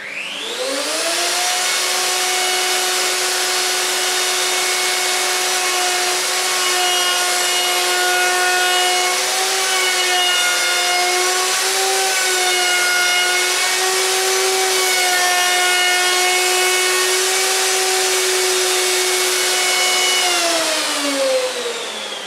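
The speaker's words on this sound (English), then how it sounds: "Now we can carry out a trial milling." A Festool router makes a trial cut milling a rebate in wood, a loud, steady high-pitched motor whine with cutting noise that holds for about twenty seconds, pitch wavering slightly, before spinning down.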